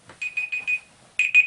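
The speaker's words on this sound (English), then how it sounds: "I set a timer, but I'm sure we've gone over." A timer alarm goes off with a rapid run of four sharp, bright electronic beeps, a short pause, then two more beeps, close and clear with no voices.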